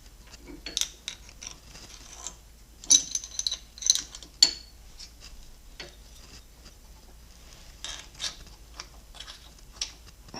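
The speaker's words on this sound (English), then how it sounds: "Putting aluminum pieces in here to protect the threads from the vice jaws." A bench vise is tightened on aluminum jaw pads protecting a threaded part, giving a faint run of metallic clicks, ratcheting ticks and small clanks scattered irregularly, with no voices.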